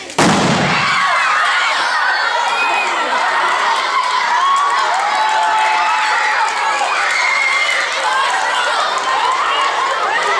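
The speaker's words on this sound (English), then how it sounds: "this next explosion is going to be really loud" A loud explosion goes off at a science show with a sharp burst at the start, followed by a long wash of crowd and children cheering and shouting that stays loud throughout.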